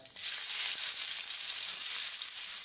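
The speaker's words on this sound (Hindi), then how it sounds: "इसी में अब हम मिला लेंगे प्याज" Onions drop into hot oil with cumin in a heavy kadai over a high gas flame, giving a sudden loud, close sizzle that holds as a steady hiss. No one speaks.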